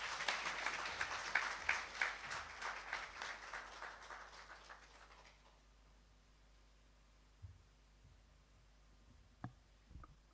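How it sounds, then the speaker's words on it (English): Audience applause after a speech at an African women's conference and awards event, a moderate burst of clapping that fades out by the midpoint, leaving quiet room tone with a couple of faint knocks. "Round of applause again to Ms. Leah for the wonderful speech"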